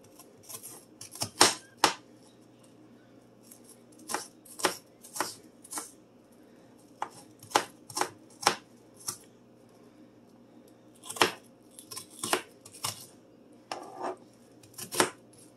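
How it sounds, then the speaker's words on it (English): A knife slices bell pepper thin on a cutting board, vertical then horizontal cuts, making crisp separate taps and scrapes in irregular short bursts with brief pauses, close and fairly quiet, no voices. "I'm gonna slice it thin, vertical then horizontal."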